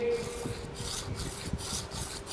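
Copper metallurgy specimen rubbed back and forth on low-grade emery paper, rhythmic rasping strokes about every half second, close and steady with no talk.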